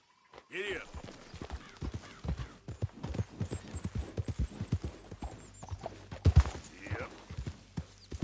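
Horse hooves clip-clop steadily in the Red Dead Redemption 2 video game, a quick rhythmic run of close hoof strikes with a brief whinny, under someone talking to his horse.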